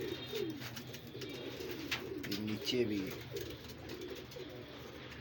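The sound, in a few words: pigeons cooing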